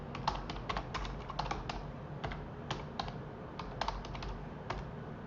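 Keys clatter on a computer keyboard in quick irregular bursts of typing, close and fairly steady across the stretch with short pauses between runs, with no talking.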